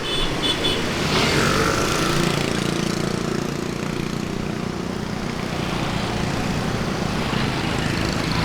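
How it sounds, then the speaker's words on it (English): Busy city street traffic after lockdown in Ho Chi Minh City, motorcycles and cars droning and passing close by in a continuous loud rumble, with a brief higher engine whine early on. "A lot of traffic over here, huh?"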